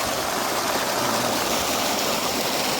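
Irrigation water from a pump gushing into a farm field, a dense, steady rushing flow heard close and loud without pause or talk.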